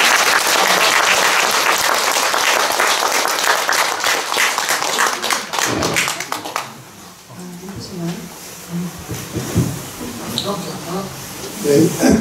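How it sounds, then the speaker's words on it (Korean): A crowd at a Buddhist dharma gathering honouring a visiting rinpoche gives loud, dense applause for about six seconds, then it fades away while a speaker talks. "다시 한번 깡세르 리포처님께 큰 박수 부탁드립니다"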